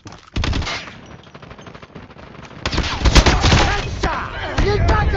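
Loud, rapid automatic fire from a Kilo 141 rifle in a first-person shooter video game, delivered in dense bursts that thicken and intensify partway through, with game effects layered beneath.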